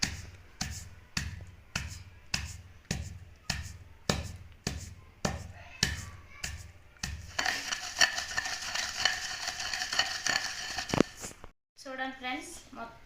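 Black jaggery and dry fruits for laddu are pounded with a series of evenly spaced heavy thuds, then mixed by hand with a gritty, scraping rustle close by.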